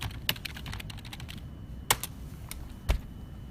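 Sparse keystrokes on a computer keyboard while a search is typed into a browser, a few isolated clicks spaced out over a faint background hiss, with no voices.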